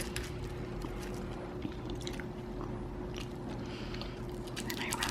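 Someone bites and chews a kimchi wrap up close, with soft wet crunching and squishing over a steady background hum.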